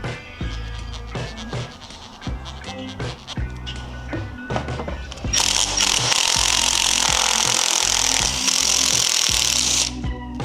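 Power tool work on a Yamaha Tenere 700 motorcycle during body armor installation: intermittent short bursts of a tool against fasteners, then a long loud continuous high-pitched whirring run of about five seconds, close up with no talk.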